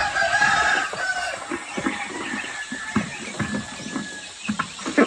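Chickens and chicks on a farm, with a rooster crowing and hens clucking at moderate distance, mixed with scattered peeping and rustling throughout.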